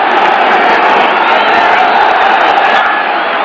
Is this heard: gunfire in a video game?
no